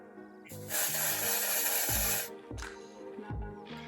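A long hissing spray of hairspray lasting over a second, followed by a few shorter bursts, close and loud, with no talking.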